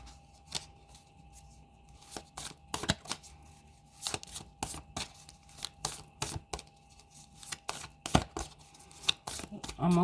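Tarot cards being shuffled by hand, a series of quick crisp riffles and flicks in irregular bursts with short pauses, close and fairly quiet.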